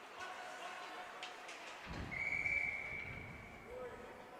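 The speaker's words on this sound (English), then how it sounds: "We get a whistle stopping play just 36 seconds into this one." A referee's whistle sounds one sharp, sustained blast to stop play during a youth squirt-level ice hockey playoff game at Glenview, heard over the hollow rink ambience and scattered crowd noise.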